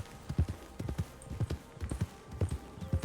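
Horse hooves clip-clop in the video game RedM, a steady uneven rhythm of hoofbeats heard nearby at walking pace with no talk over them.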